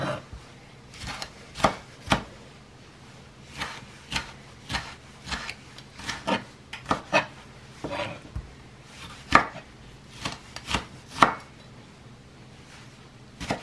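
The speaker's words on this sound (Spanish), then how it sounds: "Esto también lo vamos a estar picando en cuadritos." A knife chops vegetables into small cubes on a cutting board while preparing potato and panela cheese soup. Irregular crisp taps come in quick clusters, close and distinct, with no talking.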